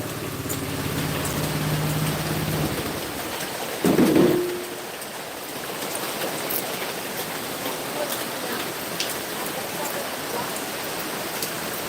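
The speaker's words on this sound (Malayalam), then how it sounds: "മഴയോ മഴ മഴ മഴ മഴ" Heavy rain pours down steadily over a village in Kerala, a broad constant hiss from start to finish, with a short louder thump or rattle near the four-second mark.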